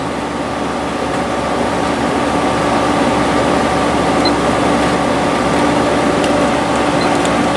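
A 6,000 BTU, 709-watt window air conditioner runs with its compressor on, giving a loud, even hum and airy whoosh that holds steady without change.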